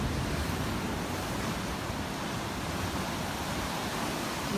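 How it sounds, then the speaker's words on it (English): Ocean surf washes steadily onto the shore before sunrise, a continuous broad roar of waves with some wind, close and constant with no voices. "Just thought I'd show you the beautiful ocean prior to that."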